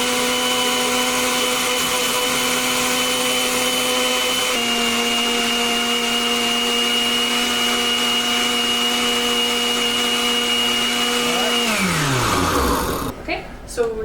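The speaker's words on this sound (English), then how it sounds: "we're going to take tomatoes and we're going to put them in a blender" A blender chopping tomatoes runs loud and steady for several seconds, its motor pitch shifting once, then winds down to a stop.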